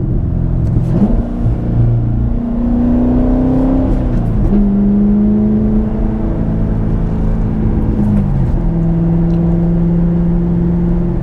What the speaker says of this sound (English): It's downshift into third. There's that rev match, that whoom.